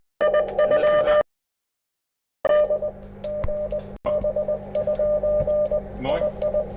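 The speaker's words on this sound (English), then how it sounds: "Here, back to Morse code." Morse code comes over an HF radio link as a steady tone keyed in quick dots and dashes, with a pause partway before the keying resumes, loud and close.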